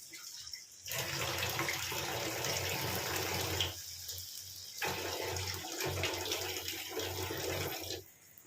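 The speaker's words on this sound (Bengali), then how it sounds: "এতে বেশি জল পড়বে না, এই 1 আঁচলা মতন জল দেবো, 1-2 আঁচলা মতন।" Water is poured from a cupped hand into a pan of butter garlic prawns, giving a steady splashing, running sound for several seconds with a brief pause partway through. No one talks.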